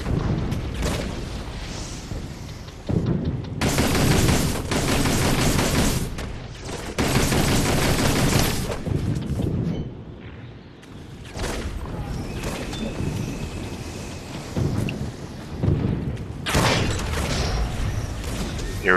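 Heavy in-game howitzer blasts and rolling gunfire from the World War I strategy game Toy Soldiers, on the Gheluvelt Chateau mission, sound as loud repeated booms with dense crackling fire between them, with no voices.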